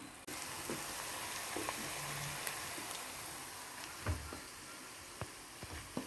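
Fish pieces sizzling in a frying pan with ginger-garlic paste for a fish curry, a steady, soft hiss with occasional louder pops and a few clinks, fairly quiet and with no talking.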